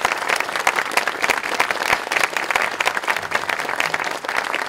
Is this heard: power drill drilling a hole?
no